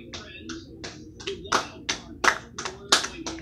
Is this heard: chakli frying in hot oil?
no